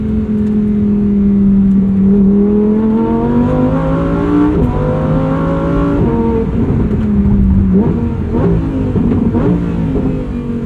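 A sports car engine revs hard and continuously, its pitch climbing and dropping through gear changes, loud and close with a throaty rasp throughout.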